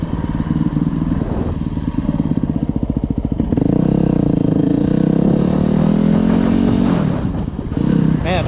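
A Yamaha WR250R motorcycle engine runs while riding, a loud close thumping drone that rises and falls through gear shifts, with wind rush and brief throttle dips.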